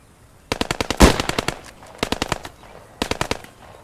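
Bren light machine gun firing in the World War II shooter Post Scriptum, several sharp bursts of rapid automatic fire separated by short pauses, loud and close.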